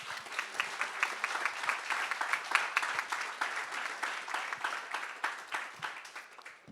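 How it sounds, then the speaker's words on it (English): A panel audience claps for a speaker being introduced, a soft, fairly distant round of applause with quick overlapping claps that holds steady and then tapers slightly toward the end. "Give a round of applause for Daryl."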